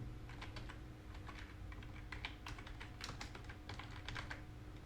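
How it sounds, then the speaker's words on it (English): Rapid clicking of computer keyboard keys as a web search is typed, a steady run of close, crisp keystrokes with no talking. "just type here reCAPTCHA Google"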